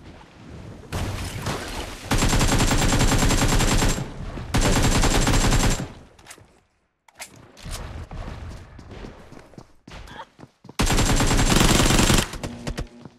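Automatic and rapid gunfire bursts from the mobile battle-royale game PUBG Mobile, loud dense volleys in several separate stretches with quieter gaps and scattered single shots between them.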